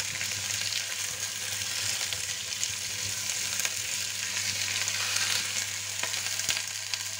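Turkey osso bucco sizzles steadily in a hot frying pan, a dense continuous crackle up close with a few faint pops and no voices.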